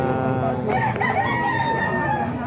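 Roosters kept at a gamefowl market crow loudly and close by in a long drawn-out call, over a busy background with a voice speaking.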